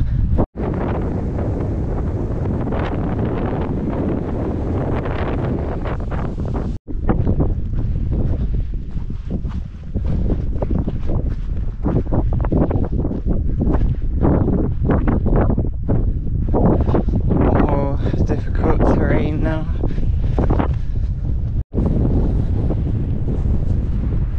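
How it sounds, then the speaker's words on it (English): Strong wind on a lane toward the hills of Bodmin Moor buffets the microphone in a constant loud roar, gusting without a break for the whole stretch. "Getting a bit windy now."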